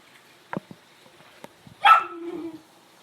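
A dog barks in a few short, sharp bursts, then lets out a louder yelping whine that trails off. The sounds come at moderate distance with no talk over them.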